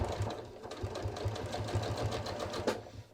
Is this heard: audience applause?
no